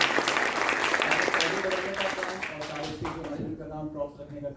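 An audience at a Hindi stage play of Andher Nagri Chaupat Raja applauds the backstage crew with thick, close clapping that gradually thins and fades as a voice begins speaking at the end.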